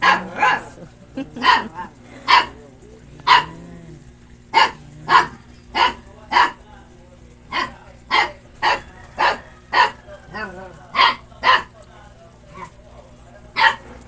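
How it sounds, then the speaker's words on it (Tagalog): A dog barks repeatedly in sharp, evenly spaced bursts, loud and close, with a low steady hum underneath. "Maingay yung aso ko."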